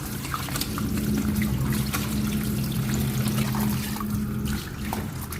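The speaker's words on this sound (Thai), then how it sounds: "อันนี้ก็ล้างหลายๆน้ำนะครับ" Catfish are rinsed in water by hand, giving a steady trickling, pouring and sloshing sound with light splashes, close and fairly loud, with no talking.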